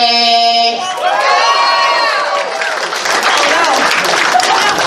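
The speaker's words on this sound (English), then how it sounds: "give a round of applause for PJ" Applause and cheering from a crowd at a furry convention dance competition swell up after a sustained tone fades, with shouts and whoops mixed into the clapping.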